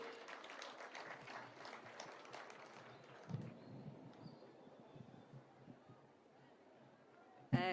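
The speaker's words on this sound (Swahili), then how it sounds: "Tumpigie makofi" An audience at an outdoor school feeding programme launch in Nairobi applauds with a dense, distant patter of clapping that slowly thins and fades, then a sharp bump at the end.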